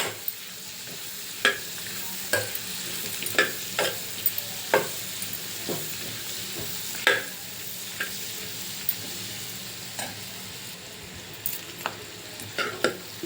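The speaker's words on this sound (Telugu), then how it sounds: "చూడండి ఫ్రెండ్స్ వేగుతున్నాయి" Cinnamon, ginger, green chillies and cashews frying in a pan for a spicy egg gravy curry, with a steady soft sizzle under repeated sharp clicks of a spoon stirring against the pan.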